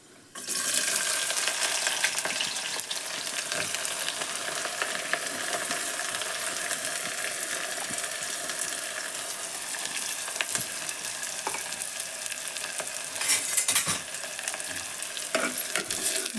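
Cloves, cinnamon and onion fry in hot oil with a loud, steady, close sizzle that holds evenly throughout, broken by occasional faint clicks of a spoon stirring the pan.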